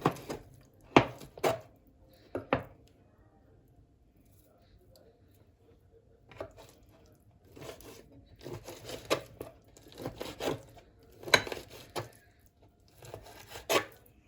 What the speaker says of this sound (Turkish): Malzemelerimi hepsi doğrayıp hazırlayacağım şimdi.